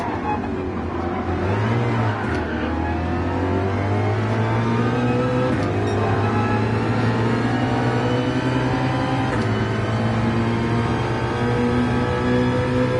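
A Porsche 911 GT3 engine in Gran Turismo 7 races around Mount Panorama. The loud, sustained engine note climbs and drops through gear changes and revs for the whole stretch, with no talking.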